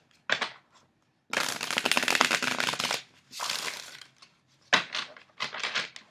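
A thick, shiny tarot deck is shuffled by hand in several bursts: quick riffling flutters, one long rattling cascade of cards, then a few shorter crisp riffles, close and clear with no talking.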